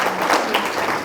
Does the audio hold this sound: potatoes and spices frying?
no